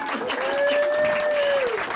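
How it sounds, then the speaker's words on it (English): Audience applause at a memorial gathering in Kingsport, a steady wash of clapping that lasts about two seconds, with a sustained tone riding over it. "Y'all just clap all you want."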